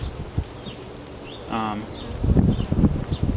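Honey bees buzz around an open hive during an inspection as a frame is shaken, a brief rising drone with scattered buzzing, followed by rustling and knocking handling sounds close by.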